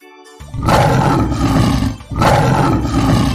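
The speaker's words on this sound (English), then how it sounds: "L for lion." A lion gives two deep, loud roars in a cartoon alphabet sequence, each a long rumbling blast, the second following a brief pause after the first.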